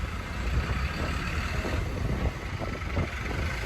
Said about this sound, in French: voir le tracteur, il enlève les algues.